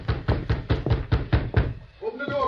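Series of knocks on a door at night in an old radio drama, about eight steady raps close and loud, followed by a brief murmur of voices.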